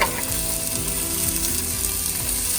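Onions sizzle steadily in a hot pan with a little turmeric added, a constant crackling hiss with occasional stirring, close up and without speech.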